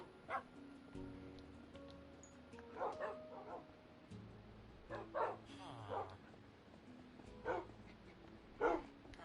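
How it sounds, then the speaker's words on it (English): Dogs in the Minecraft video game barking and yipping in repeated short bursts over a steady game background, several loud yaps spread across the stretch with a few whimpers between them. "look how many dogs I've got right now"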